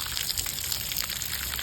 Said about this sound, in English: Direct, gentle pressure, pushing water into the bark.